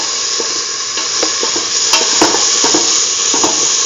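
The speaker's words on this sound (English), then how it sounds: "Keep on sauteing." Salted onion pieces sauté in a pan for curried chickpea yogurt rice, giving a steady close sizzle broken by light scraping stirs.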